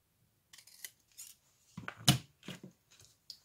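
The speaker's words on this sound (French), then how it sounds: "Et je vais couper les angles" Scissors snip at the corners of a sheet of paper during a paper craft project: several short, crisp cuts in an uneven rhythm, close and fairly quiet, with brief pauses between the snips and no talking.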